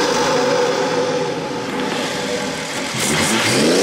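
BMW 340i M Sport fitted with an MST intake, heard from outside: a loud engine rev rising and falling, with crackling exhaust pops near the end and no talk.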